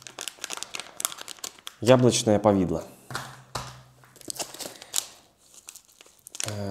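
A foil-and-plastic packet of apple jam from a Russian Army officer's combat ration crinkles and rustles as it is handled. The crinkling is close and intermittent and runs under someone speaking.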